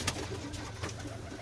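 Jacobin pigeons coo softly in a close, steady murmur over a continuous low background, with no talking.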